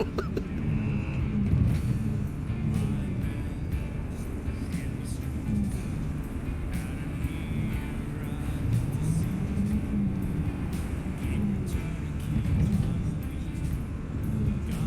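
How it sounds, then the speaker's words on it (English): An electric truck in the video game Cyberpunk 2077 drives with a steady low humming drone that rises and falls slightly, with occasional faint clicks over the continuous rumble. "I think this truck over here is pure electric. It definitely sounds like Tesla."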